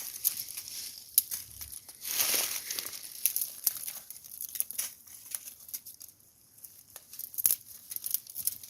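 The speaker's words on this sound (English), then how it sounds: "The little snap, the crisp sound means that it's dead wood." Dry crackling and sharp little snaps of brittle dead-wood twigs breaking, gathered as kindling, come in quick irregular bursts close by with no talking.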